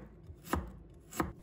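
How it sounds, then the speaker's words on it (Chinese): A knife slices peeled ginger on a cutting board with two crisp, close chopping thuds about two-thirds of a second apart, with near silence between them. "接下来准备一块去皮的生姜， 把它切成片，"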